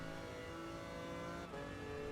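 A Lamborghini Countach engine hums steadily in Gran Turismo Sport, a constant tonal drone with a brief dip midway, fairly faint.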